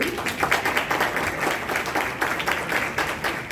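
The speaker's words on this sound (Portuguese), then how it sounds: "Palmas para ele." Audience at a round-table panel event applauds continuously, a dense, even patter of many hands clapping at moderate volume from start to finish.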